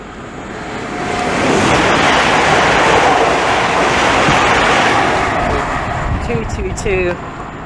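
A train rushes through Harlington station, its roar swelling close and loud, holding for several seconds, then easing away with a few high squeals near the end.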